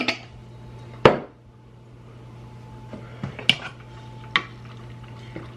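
A spoon stirs food in a pot while a budget family dinner is cooked, giving one sharp clack near the start and a few lighter clinks and scrapes against a steady low kitchen hum.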